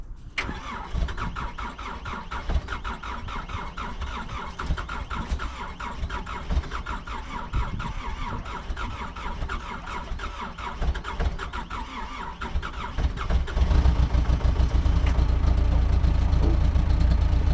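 A Takeuchi TL26 tracked skid steer engine runs at a steady, rough mid-pitched rumble close by, growing louder and heavier for the final few seconds as it revs up.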